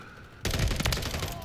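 Rapid gunfire crossfire in a zombie shooter video game bursts in suddenly and loud, as a dense rattling volley that continues steadily to the end.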